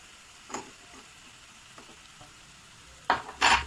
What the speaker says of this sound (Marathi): हे मसाले सगळे आपण रोस्ट करून घेऊया थोडे।